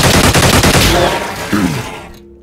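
Loud rapid burst of gunfire from the Xenonauts strategy game, a string of close sharp shots in quick succession that then rings out and fades into a brief tail and silence.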